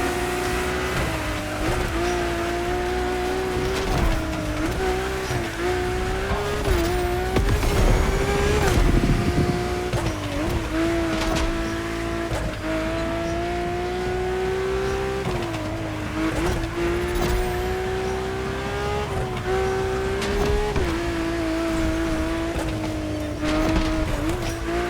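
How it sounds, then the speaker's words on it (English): Drift car in The Crew Motorfest, a loud sustained engine drone that rises and falls with revving, with tire squeal woven through and a harsher burst near the middle, no talking. "Your drift car is powerful as hell."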